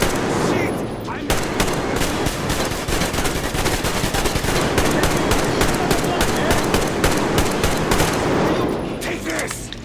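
Rapid gunfire in Metro Exodus rattles on without a break, loud and close, a dense stream of automatic shots with shouting voices mixed in over it.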